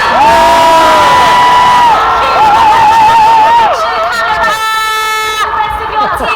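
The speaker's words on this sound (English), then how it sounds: "let's have a big cheer, not just for us but Team GB and Paralympics GB" A large crowd cheers, whoops and shouts for Team GB Olympians and Paralympians at a homecoming welcome in Manchester in 2016, loud and sustained throughout, with children's shouts and babble mixed in.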